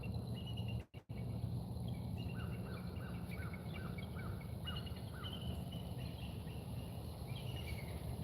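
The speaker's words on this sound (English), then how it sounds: "That sounds like a bald eagle." A bald eagle calls outdoors at a car-camping breakfast spot, giving a series of short, repeated high chirping notes over a steady low background rumble, with no talking.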